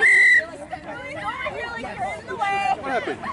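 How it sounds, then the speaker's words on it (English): At a Highlanders vs Lin Benton Lions sports match, a referee's whistle gives a sharp, shrill blast, then a second shorter one amid crowd chatter and nearby voices. "Why did they blow the whistle?"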